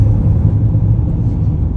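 A car idles close by with a steady low rumble and faint motor whir, on a roadside where travellers flag down a ride.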